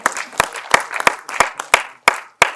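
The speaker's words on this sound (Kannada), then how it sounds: "ಮತ್ತೊಮ್ಮೆ ಬರಲಿ ಜೋರಾದ ಚಪ್ಪಾಳೆ" Audience clapping at a film title launch event, a small crowd giving sparse, distinct claps in loose bursts, close and sharp with short gaps between.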